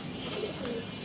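A pigeon gives a short, soft coo at a pigeon farm, faint and brief against a low background hum.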